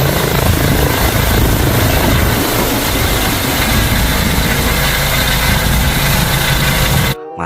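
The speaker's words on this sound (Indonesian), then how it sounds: "ini ada helikopter pemadam kebakaran teman-teman." Firefighting helicopter thundering close and loud, a steady dense rotor and engine roar filling the whole stretch before cutting off abruptly near the end.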